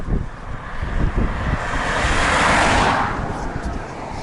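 Strong wind buffets a camera microphone outdoors beside a road, a loud rumbling roar with gusts swelling and easing, and a faint hiss of passing traffic blended in.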